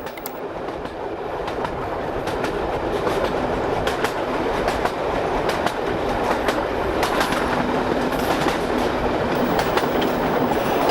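Heritage steam train running at speed on the Battlefield Line after leaving Market Bosworth, heard from aboard as a continuous loud rumble with rhythmic clickety-clack of wheels over rail joints.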